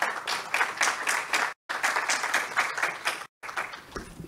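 Strong audience applause at a mining forum, a dense burst of many hands clapping that cuts out twice in brief gaps and then resumes.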